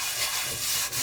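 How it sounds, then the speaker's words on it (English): Brillo pad scrubbing rust off a cast iron pan, a close, continuous abrasive rasping with steady back-and-forth strokes and a brief pause near the end. "we're going to take our Brillo pad or our metal. And we're just going to try to rust and scrub some of that rust away."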